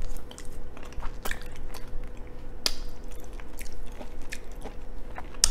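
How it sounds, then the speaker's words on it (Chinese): Someone chews a mouthful of canned corned beef stewed with soft potato, producing close, wet, squishy chewing with sharp bite clicks and smacks in a steady rhythm, no talking. "再吃点这个牛肉罐头的牛肉，"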